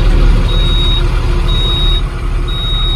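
A Tata LPK 2518 HD tipper truck runs loudly with a steady diesel rumble while a high warning beep sounds at regular one-second intervals, close up and alone.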